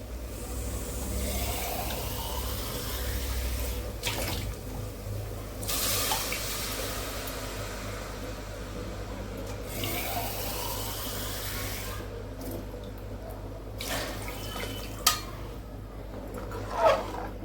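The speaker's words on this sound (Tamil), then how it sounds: "இப்போ 4 கிளாஸ் தண்ணி ஊற்றிக்கலாம்." Water pours into a pot for chicken rice in a home kitchen, coming in several separate splashing bursts over a faint steady background hum.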